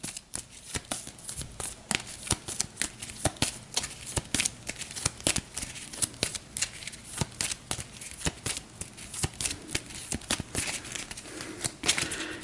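A deck of scenario cards for a board game is shuffled over and over, giving close riffling bursts in a steady, uneven rhythm with no talking.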